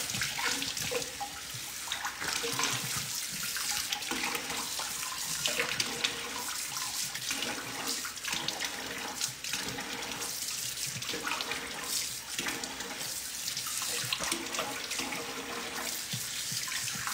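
Running water pours steadily from a sink tap while products are rinsed off, a continuous splashing rush with small fluctuations as hands move through the stream, and no talking.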